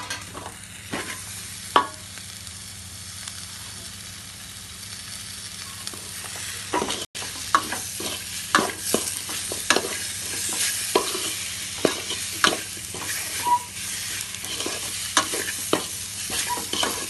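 Chopped tomatoes frying in a pan with chili, stirred repeatedly, giving a steady sizzle broken by scraping and clattering stirs, close and fairly loud with no talking.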